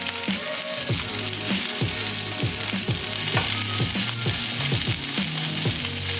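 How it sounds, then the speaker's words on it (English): Meatballs fry in a hot skillet over medium heat, a loud continuous close sizzle and crackle that runs without a break. "once our skillet is nice and hot on a medium temperature, you want to go ahead and start adding your meatballs"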